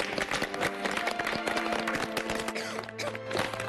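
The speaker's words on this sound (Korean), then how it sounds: "영수 씨 힘내시라고 박수 한번 보내주세요" Studio audience on a Korean talk show clapping in support of a guest, a brief patch of scattered hand claps, moderately quiet, with faint voices beneath.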